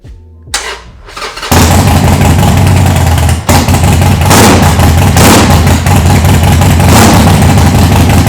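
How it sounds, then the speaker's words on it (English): A Harley-Davidson Sportster motorcycle fitted with new aftermarket pipes starts up after a short crank, then settles into a loud, steady, deep idle with a few throttle blips, close to the listener and without talk. "So now when I turn my bike on, it sounds good, okay?"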